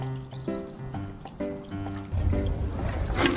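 Water pours and gurgles steadily into a pump's tank as priming water, the flow growing louder and splashier toward the end, with some knocking in the background.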